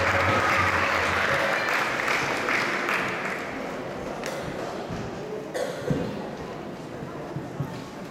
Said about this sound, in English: Let's give one big round of applause